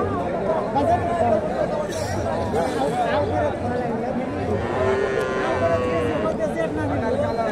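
A Friesian bull lowing at the busy Dakumara cattle market, with a steady hubbub of many voices and chatter surrounding the animals throughout.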